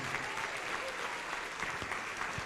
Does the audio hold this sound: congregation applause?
yes